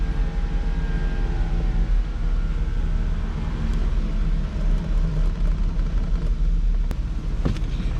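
Rebuilt Porsche Boxster convertible on the move, a steady low engine and road rumble filling the cabin throughout, with brief sharper knocks near the end and no voices.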